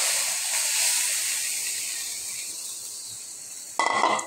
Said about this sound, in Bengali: এই যে পেঁয়াজ ভাজা হয়ে গেছে, আমি এখন জাল কমিয়ে ডালটা ছেড়ে দিলাম।